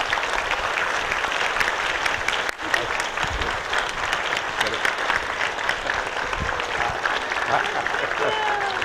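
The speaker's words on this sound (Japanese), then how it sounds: "拍手お願いします" A seminar audience stands and gives a warm welcome round of applause: dense, sustained clapping from many hands, close and loud throughout, with a faint murmur of voices mixed in.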